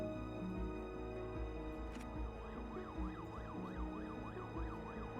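A police car siren in the city-building game Cities: Skylines II wails in a steady rising-and-falling cycle, entering partway through and continuing over a dense bed of game ambience and traffic hum.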